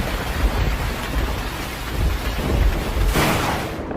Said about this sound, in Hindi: जैसे ही बाबा इतना कहते हैं तभी अचानक बारिश शुरू हो जाती है।